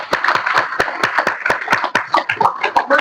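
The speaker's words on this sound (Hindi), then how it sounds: "इन मैया के नाम पे सबको ताली बजाना थोड़ा।" An audience at a Hindi religious sermon claps, a loud, fairly rhythmic run of close handclaps lasting a few seconds with no talking over it.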